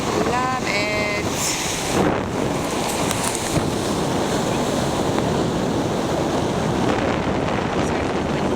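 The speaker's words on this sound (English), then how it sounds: "It's just super windy" Strong wind buffets the microphone on the Pensacola, Florida coast, a loud, steady roar of gusts that runs the whole time, with surf washing beneath it.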